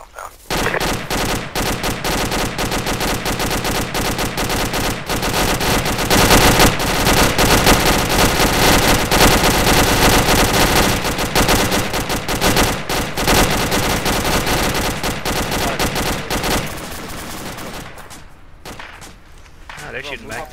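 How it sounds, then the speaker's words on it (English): Sustained heavy gunfire in a military shooter game set in Afghanistan, dense rapid machine-gun bursts and rifle shots overlapping almost nonstop, loud and close, tapering off near the end with voices mixed in. "Ah, they're shooting back."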